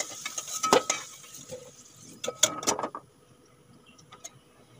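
Metal utensils scrape and clink against a pan as fried potatoes are lifted out, with a string of close, irregular clatters and taps, a busier burst midway, then quieter scattered knocks.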